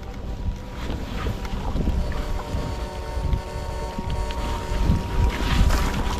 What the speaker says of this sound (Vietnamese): Gió giật từng cơn.